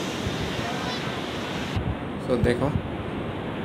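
Ocean waves breaking at Miramar Beach in Goa, a steady broad wash of surf with wind buffeting the microphone, and a brief voice speaking near the end.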